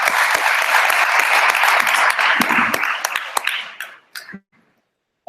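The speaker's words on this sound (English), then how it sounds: "Have a round of applause for John" An audience at a Dubai tech presentation applauds a presenter, close, loud clapping with sharp individual hand claps that thins out and trails off into a few last scattered claps and then quiet.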